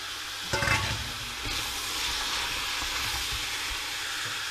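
Onions hitting a hot pan for beef ragout, a sudden splash of sizzle followed by a steady loud frying hiss that continues alone.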